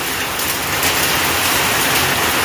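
A steady, dense roar of hail and heavy rain pounds surfaces without a break during a storm in Sylhet, loud and close.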